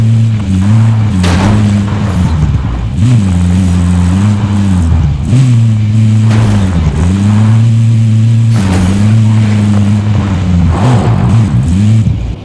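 A car in Call of Duty Warzone drives and revs hard, its loud engine drone rising and dipping in repeated surges as gears shift, close and continuous.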